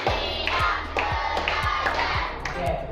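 A class group clapping in unison on a spoken count, a repeated rhythmic pattern of loud close claps with thumps, with lively voices and chatter of the group around it.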